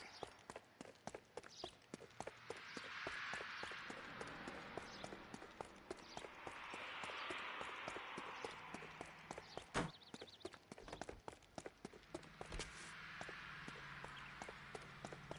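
A horse's hooves clip-clop in a rhythmic run in the video game L.A. Noire, steady repeated hoof strikes over swelling background game ambience with a couple of sharp knocks, fairly quiet.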